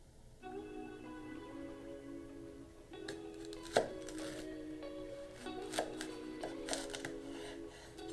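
A knife chops jalapeño peppers on a cutting board in a few sharp, uneven strikes over a low steady background hum, close by.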